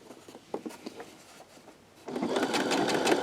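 Light handling taps on a table lead into a home sewing machine fitted with a quarter-inch foot and seam guide, which starts stitching a fabric seam with a steady, close whir.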